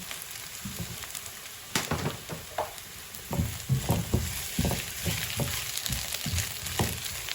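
Potatoes fry with sugar in a pan in a Sichuan-style home kitchen, giving a steady close sizzle broken by irregular stirring scrapes and clatters, with no talking.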